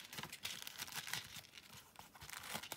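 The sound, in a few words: putting paper cards back into an envelope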